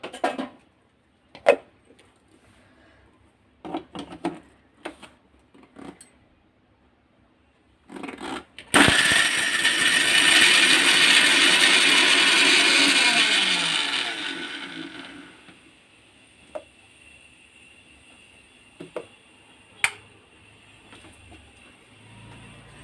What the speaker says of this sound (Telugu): మిక్సీలో వేసాం కదా, మిక్సీ చేస్తాను